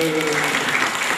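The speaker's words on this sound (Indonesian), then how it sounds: "Tepuk tangan dulu." Audience in a workshop clapping hands together, a dense steady patter of applause filling the short stretch, with voices mixed in beneath.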